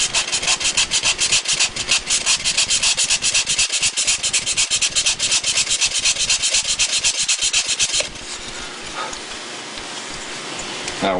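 Coarse sandpaper rasps against wood in a fast, steady back-and-forth rhythm while hinge recesses are cut in a plywood jig, loud and close, then stops abruptly about two-thirds through, leaving quieter handling noise.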